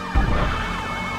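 A police siren from GTA with the LSPDFR mod wails loud and steady through a brief moment, with no talking.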